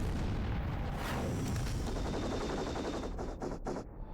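Heavy, rapid gunfire from a mech firing at a target in Murakumo: Renegade Mech Pursuit, a loud continuous barrage with booming weight that thins into a few sharp separate bursts near the end.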